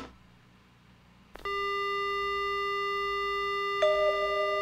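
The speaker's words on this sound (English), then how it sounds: "The only sound I hear is the dial tone." A telephone dial tone in the horror video game Death Mark: after a quiet second and a half, a steady, loud, continuous electronic tone sounds alone and shifts slightly in pitch near the end.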